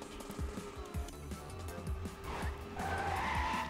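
A racing car in a video game championship race at the Bahrain GP drives a lap, its engine droning with rapid gear-shift pulses and tire squeal, moderately loud, with faint commentary underneath.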